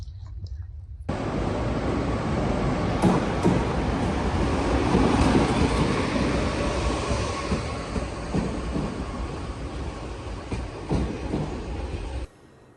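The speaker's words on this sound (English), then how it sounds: "Made it to the train station, ready for my train ride back to Germany." Train noise at a station in Strasbourg, France: a broad steady rumble with rolling wheel clatter, fairly loud and close, fading out abruptly at the end.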